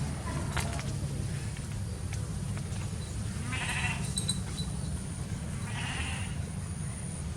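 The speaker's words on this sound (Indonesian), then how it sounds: "aku juga menggembala kambing sebagai peliharaan kami" Goats kept by a family on a farm in Indonesia bleat twice in the middle distance, short wavering cries standing out over a steady low rumble of outdoor background noise.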